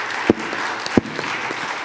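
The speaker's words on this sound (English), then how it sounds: "We'll everybody give him a round of applause for Brad." Light, sparse applause from a small audience at a town public hearing, a brief patter of clapping with two louder hand claps standing out, moderately close and without speech.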